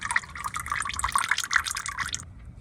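Engine oil dripping from the drain of a 2017 Ford Police Interceptor Utility into a pan during an oil change, a close run of quick irregular liquid drips and patters that stop abruptly near the end.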